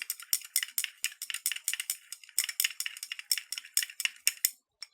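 A spoon clinks and rattles against glass while copper sulfate crystals are stirred into water, giving rapid, fairly even taps that keep going almost without pause, bright and close, with no talking.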